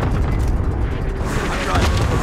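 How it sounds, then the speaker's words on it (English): Enemy cluster strike explosions in a video game: a dense, loud, continuous rumble of overlapping blasts, with a voice talking over it. "Enemy cluster strike incoming."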